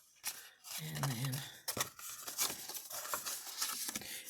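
Paper being cut with scissors while making a paper purse: a quick series of crisp snips and rustles close by, with a brief hum of voice early on.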